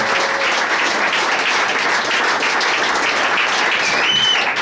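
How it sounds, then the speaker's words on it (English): A comedy club audience at the Beantown Comedy Riot applauds a comedian with steady, dense clapping that stays loud and even for several seconds, with no voices standing out. "Huge round of applause for Pat Harlow, folks."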